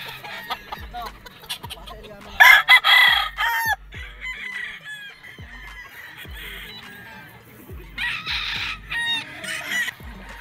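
Gamefowl battle stag roosters crow loudly and nearby in two bursts, mixed with clucking from other fowl and intermittent thumps at a farm, with people talking in the background.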